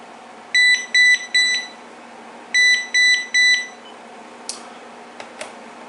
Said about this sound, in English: the Find Handset button works on it